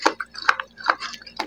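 Someone bites into and chews crunchy honeydew melon up close, with four or five crisp, wet crunches spaced unevenly over about a second and a half.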